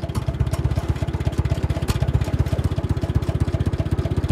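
A Ferguson 35 tractor engine runs during snow plowing, a loud close chugging idle with an even rapid firing pulse throughout and no speech.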